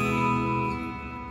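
A Chinese-made Hello Kitty electric guitar rings out with a clean tone, a single sustained chord decaying gradually, close and clear with no talking.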